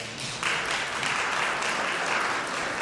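Audience applause at a mayoral debate in a church, a steady wash of clapping that swells after a brief start and holds at an even level throughout.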